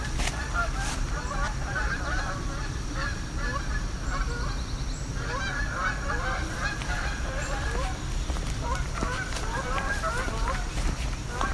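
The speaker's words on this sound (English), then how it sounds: "There's some Canada geese going overhead." A flock of Canada geese honks continuously overhead, many overlapping calls at a moderate distance, with a brief lull midway before the honking resumes.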